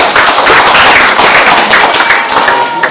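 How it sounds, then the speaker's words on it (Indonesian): Dense, steady applause from a large audience welcoming a speaker at an Indonesian social media and election seminar, many hands clapping loudly and continuously throughout. "Tepuk tangan dulu untuk Mas Holdi."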